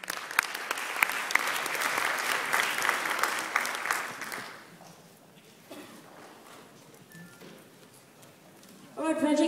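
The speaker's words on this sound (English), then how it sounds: "Please give them a big round of applause." An audience at a startup pitch event applauds the Taiwanese team Ragic, loud dense clapping for about four seconds that fades to a quiet murmuring room before a voice begins speaking at the end.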